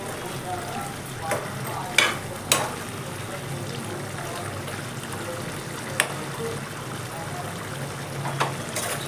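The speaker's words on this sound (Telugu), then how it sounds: "చికెన్కి అంతా పట్టేలాగా బాగా కలిసిపోయేలాగా కలుపుకోవాలి." Chicken with fenugreek leaves is stirred in a frying pan, a steady close sizzle and hiss broken by occasional sharp scrapes and clicks of the spatula against the pan.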